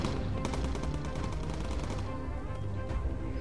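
Dense, continuous rapid gunfire from a bomber's ventral cannon in the video game Bomber Crew, loud and sustained with explosive rattling throughout.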